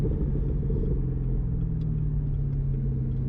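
Deep, steady idle rumble from a Chevrolet Camaro ZL1 1LE track-package V8, close and continuous with no talk over it.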